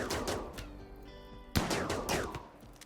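A military turret in the video game Rimworld fires rapid bursts of gunshots, sharp repeated cracks coming in quick clusters, with a brief pause and then a louder volley, close and with no talk over them.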